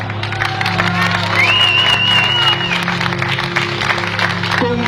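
A crowd at a political rally claps and cheers loudly, mixed with shouts and a shrill whistle, over a steady low hum from the sound system.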